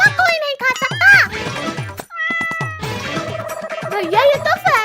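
A cat meows several times in quick, rising and falling calls, close and fairly loud, with voices talking and exclaiming around it in a comedic household scene.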